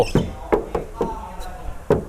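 Knuckles knocking on the body panels of a used Isuzu D-Max X-Series 1.9 pickup truck, six or seven sharp, close taps spaced irregularly, with no talk.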